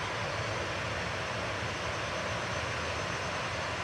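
A departing aircraft at Manchester Airport gives a steady, broad jet roar at middle distance, unbroken for the whole few seconds with no voices.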